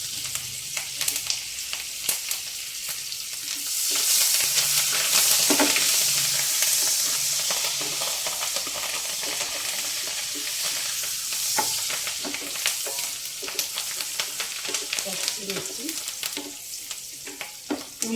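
Curry leaves, garlic and green chillies fry in hot oil in a pan with a continuous crackling sizzle and occasional stirring scrapes, close and steady throughout with no talking.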